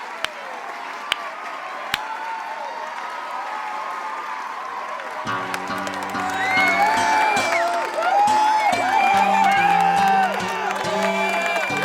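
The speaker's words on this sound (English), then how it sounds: "Disco Joe gives a moderate hand clap for the local band that has made it big." Moderate crowd applause with scattered cheers and whoops for a local country band, followed by the band starting up with bass and guitar tones rising under the clapping.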